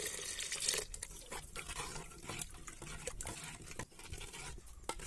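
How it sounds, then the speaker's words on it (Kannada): A little water is poured into masala cooking in a pan, heard as a faint, continuous trickle and splash of liquid nearby, with no talking. "ಸ್ವಲ್ಪ ನೀರು ಹಾಕ್ತಿದ್ದೀನಿ."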